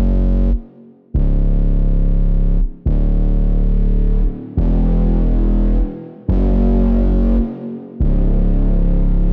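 Deep, gritty distorted 808 bass notes in FL Studio held for about two seconds each, six in a row, with short reverb tails decaying in the brief gaps between them.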